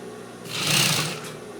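A sewing machine stitching a blouse runs in one short, close burst of fast whirring that swells and then cuts off, against a quiet room.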